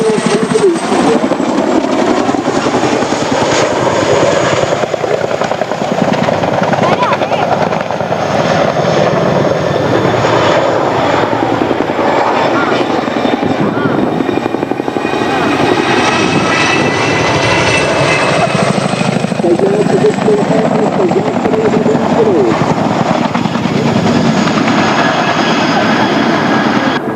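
Royal Air Force Chinook tandem-rotor helicopter flying a display at the Malta International Airshow, a loud, steady rotor and turbine roar that holds close and continuous for the whole stretch, with no talk over it.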